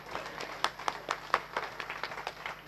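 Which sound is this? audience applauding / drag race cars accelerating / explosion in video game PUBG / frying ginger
audience applauding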